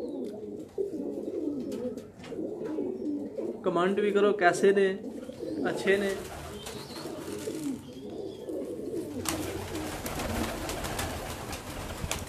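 Pigeons coo softly in the background at a rooftop loft, steady low murmurs running under someone speaking close to the microphone.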